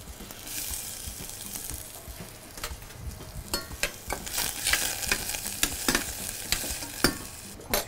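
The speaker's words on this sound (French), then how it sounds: "on va faire suer les échalotes" Shallots sweat in butter and oil in a pan, a gentle sizzle broken by repeated scraping stirs and clicks of a utensil, close and fairly quiet.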